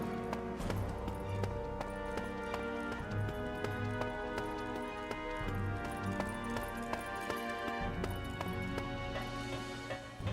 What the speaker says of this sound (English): That's probably going to be another mechanical horse.